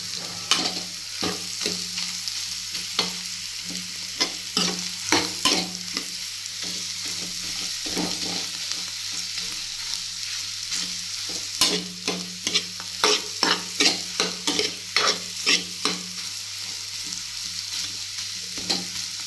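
A spatula repeatedly scrapes and stirs boiled potatoes with coriander, chilli and salt in a frying pan over a steady low sizzle, with the clatter picking up into quick strokes toward the end.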